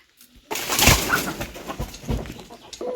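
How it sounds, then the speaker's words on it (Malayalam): A white hen makes a noisy racket close by, bursts of harsh clucking and squawking after a short silence, with a few dull knocks mixed in. "ഈ വൈറ്റ് കോഴിക്കാണ് ഭയങ്കര ബഹളം"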